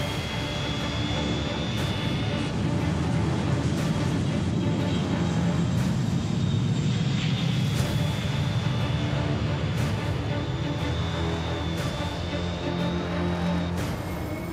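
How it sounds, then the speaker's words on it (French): Loud, sustained roar of a jet engine building and holding steady, with a faint whining tone above the constant rumble. "L'avion au décollage,"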